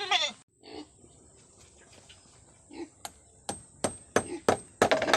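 A goat bleats loudly once up close, then sharp hammer blows ring out as a goat shed is built, sparse at first and growing quicker and denser.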